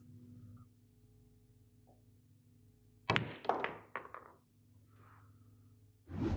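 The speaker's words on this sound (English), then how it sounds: "So a tiny draw shot." A pool cue strikes the cue ball low for a small draw shot in an 8-ball game, a sharp click followed by a quick cluster of ball-on-ball clacks and a softer knock, close up in a quiet room with a low hum.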